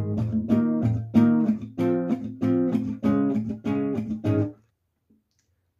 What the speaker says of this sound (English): I guess you could call them strumming muted strings.